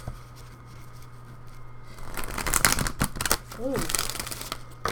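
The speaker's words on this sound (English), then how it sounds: "shuffling these cards hurt my hands" Tarot cards being shuffled by hand, crisp papery riffling and slapping in quick bursts that grow louder midway, with a voice speaking briefly in between.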